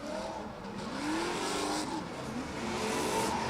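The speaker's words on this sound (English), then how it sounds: "as he now hammers the throttle across the centre of the circuit" A drift car at full throttle on a circuit during the Oman International Drift qualification, its engine revving high and rising in pitch, loud and close, with a rasping roar that holds steady across the run.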